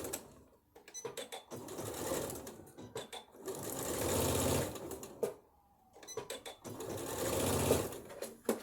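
A sewing machine stitches fabric in three or four sustained runs, a close, busy mechanical whir with short pauses between, and occasional brief talk.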